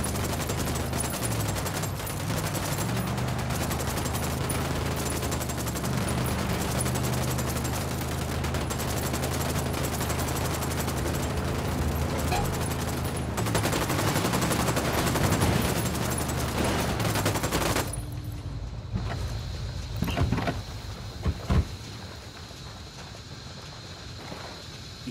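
Sustained gunfire in the tactical shooter Ghost Recon Wildlands: a loud, dense fusillade of automatic weapons over a steady rumbling bed, cutting off near the end to a few scattered shots and quieter ambience.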